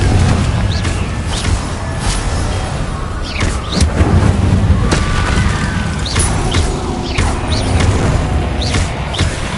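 Confringo fire spells explode during combat in the video game Hogwarts Legacy. The blasts come as a loud, dense, continuous barrage of booms and crackling impacts, layered over one another without a break.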